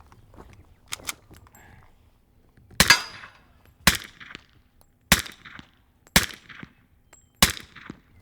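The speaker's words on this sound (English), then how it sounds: "can you hear those rounds hitting just the dirt?" Suppressed MK23 pistol fired outdoors, rounds striking steel targets and dirt: six sharp, loud cracks spaced about a second apart, each with a brief ringing tail, heard alone with no talking.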